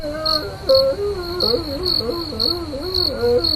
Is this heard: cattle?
no